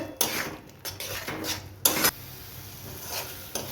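Spiced masala for a vegetarian Bengali aloo dum stirred and fried in a pan, with a few sharp scraping clatters of a spoon against metal over a soft, steady sizzle.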